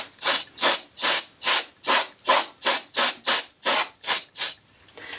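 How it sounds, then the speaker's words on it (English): Canned air blasts dust out of a sewing machine in about a dozen short, evenly spaced hissing squirts, close and fairly loud, with no talking. "I can actually take my forced air, my canned air, and I can blow everything out this direction"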